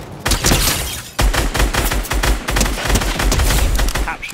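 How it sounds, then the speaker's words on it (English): Assault rifle fire in Fortnite during a squad fight, loud repeated bursts of shots with a short pause after the first volley, then sustained close-range firing. "Tap shooting with the assault rifle works."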